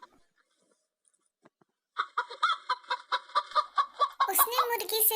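A hen clucks in a quick, steady run of short rhythmic calls after a near-silent start, and a voice breaks in over the last second.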